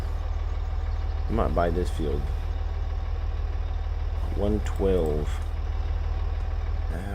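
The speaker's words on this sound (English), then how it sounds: "Hold up here, tractor." A farm tractor idles steadily nearby, its low engine drone running throughout while someone talks over it.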